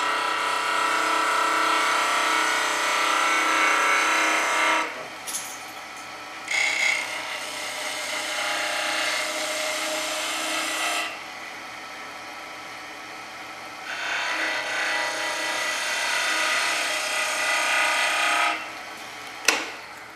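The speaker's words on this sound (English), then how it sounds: "I've got the lathe running at about" A wood lathe spins a turned Christmas ornament at about 1800 RPM while a tool scrapes and rasps against the wood in several long passes, broken by brief pauses, loud and close.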